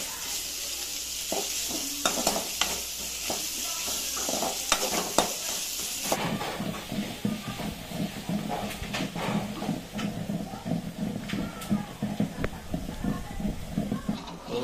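Onions sizzle in hot oil in a pan as a tadka for sambar with pumpkin and puli keerai, a steady hiss with stirring scrapes that quieten partway through, continuous and close.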